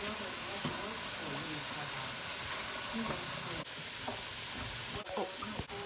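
Chopped onion cooks in a hot pan for red beans and rice, giving a steady close sizzle and hiss with occasional stirring scrapes, a couple of sharper knocks near the end.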